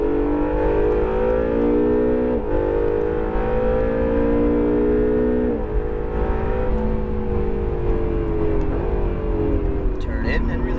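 An Acura NSX engine pulls hard on a race track, a loud, sustained whine that climbs in pitch through the gears with brief dips at each shift, close and continuous.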